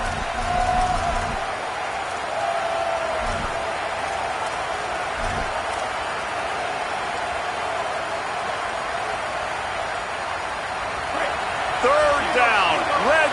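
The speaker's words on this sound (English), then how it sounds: "This crowd trying to do its part to get inside the kicker's head." Stadium crowd noise from the College Football 27 video game, Alabama at Mississippi State, rumbles as a broad, steady roar with scattered cheers, under nearly continuous play-by-play commentary.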